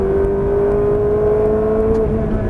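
A sports car on a race track accelerates hard at full throttle, its engine droning loud and steady with a rising tone over about three seconds, close and alone without talk.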